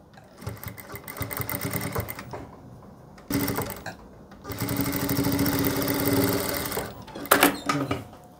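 Sewing machine stitching a salwar, running in several sustained bursts of rapid mechanical whirring and clatter, separated by short pauses, close and fairly loud with no talking.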